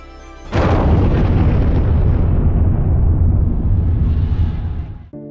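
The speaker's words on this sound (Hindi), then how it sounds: "एक जोरदार धमाका हुआ जिससे सारी बस्ती जलकर खाक हो गई" A massive explosion erupts with a sudden loud boom, followed by a long rumbling roar that slowly decays over several seconds before cutting off.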